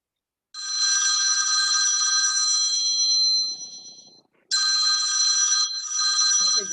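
A telephone rings in a Marathi radio play, a loud, close electric bell trilling in two long bursts separated by a short pause, heard alone without speech.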